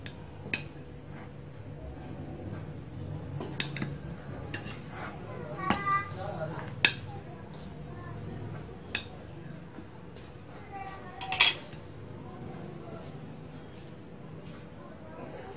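A chocolate cake baked in a pressure cooker is sliced with a knife: scattered light clinks and taps of cutlery on plates, fairly faint and close, with one brighter clatter toward the end and a low background murmur.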